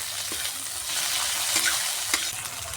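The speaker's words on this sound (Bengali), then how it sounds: "আদা রসুনটা কষিয়ে নেব, কাঁচা গন্ধটা যাতে চলে যায়। এবার দিয়ে দেবো টমেটো কুচি।" Ginger-garlic paste and chopped tomato fry in hot oil, a steady broadband sizzle with a few soft scraping strokes of a spoon stirring through, no voices.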